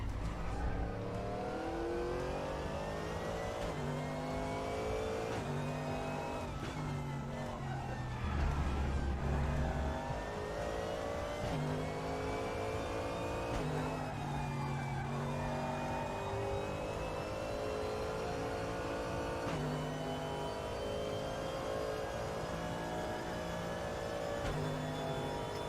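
Race car engines scream in the RaceRoom sim racing game, climbing through the revs and shifting gear repeatedly over a steady loud drone that runs throughout, with no talk.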